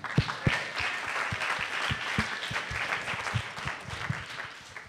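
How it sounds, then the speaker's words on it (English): An audience at a CodeDay Bay event applauds for the judges, a dense, steady round of clapping from a medium-sized crowd that holds evenly for several seconds. "let's give a round of applause for our judges"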